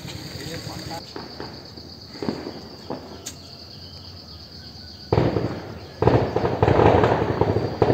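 Diwali firecrackers burst outside in a crackling string, faint at first and then growing loud, dense and continuous near the end, with insects chirping in the background.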